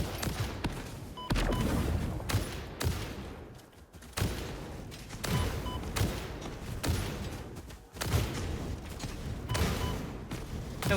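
Gunfire aimed at an enemy creature in the video game Satisfactory, a steady series of punchy shots and thuds repeating every second or so over a busy, rumbling game background.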